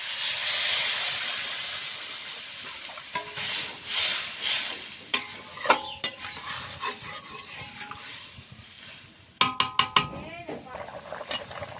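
Small fish curry with tomato, spices and banana stem cooking in a pan, a steady sizzling hiss with bubbling, interrupted by scraping stirs and clinks of a utensil against the pan, close up and without speech.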